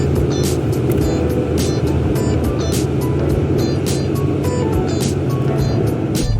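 Steady, loud road and engine roar of a car cruising at about 130 on a highway, continuous broadband rumble with wind and tyre noise throughout, no voices.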